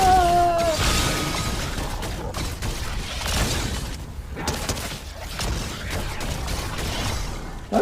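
Ripsaw launcher blasts in the video game Fortnite go off as dense, continuous bursts and booms, loud and close, with frantic chatter and game noise mixed throughout.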